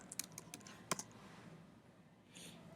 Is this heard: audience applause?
no